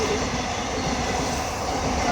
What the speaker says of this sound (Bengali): এক্সপ্রেস ট্রেনগুলো এখানে থামে না, জোর যাচ্ছে